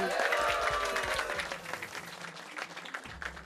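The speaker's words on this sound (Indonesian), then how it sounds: "Tepuk tangan yang panjang dong" A studio audience at an Indonesian TV show claps as a guest is called up, a fairly faint, steady patter of applause with a voice speaking over it at the start, gradually thinning out.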